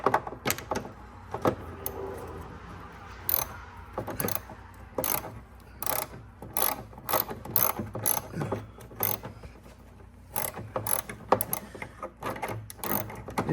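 Ratchet with a deep well socket loosening a headlight bolt on a Ford Fusion, giving repeated sharp clicking bursts in uneven runs with short pauses between, close and fairly quiet.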